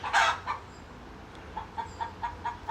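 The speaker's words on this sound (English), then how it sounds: "there's this bird right here making all this squawky noise" A bird squawks outdoors: one loud burst near the start, then a series of softer, evenly spaced calls, moderately distant and alone without talk.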